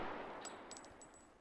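A Mosin sniper rifle fitted with a PD scope fires in the video game Squad, giving a short, sharp gunshot burst over a dense rushing background.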